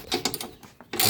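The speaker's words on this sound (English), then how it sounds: "Now need a socket. 7/16 ratchet." A 7/16 socket ratchet turning while installing a Genie 3155D belt-driven garage door opener, giving a few quick close clicking bursts followed by a louder rattle at the end.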